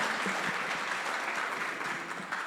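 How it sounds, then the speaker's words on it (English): Audience applause at a community dialogue event after a speaker finishes, a moderately soft but continuous patter of many hands clapping for a couple of seconds without talk. "A round of applause, please."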